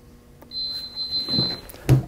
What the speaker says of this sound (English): It will count down to 0 and beep when it's completed.